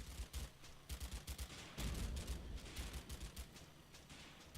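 Machine guns laying suppressing fire in the wartime strategy game Combat Mission Fortress Italy, rapid rhythmic bursts of shots, some overlapping, with a denser stretch of fire midway and no talk.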